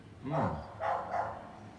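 Dogs barking and yipping in short bursts, one longer bark followed by two quicker ones, heard at moderate distance and fairly soft.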